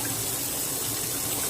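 Tap water runs steadily into a pot of rice being rinsed, a loud, continuous hissing splash with no voices.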